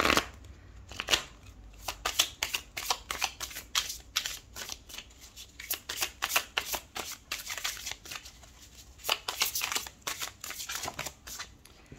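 Tarot cards shuffled by hand for a reading, a steady run of crisp riffling bursts and soft slaps, close and fairly quiet, with no talking.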